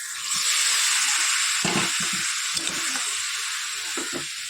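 Young jackfruit goes into a hot pan of oil just after fish has fried in it, giving a steady, loud hiss of sizzling with a few soft knocks of stirring nearby.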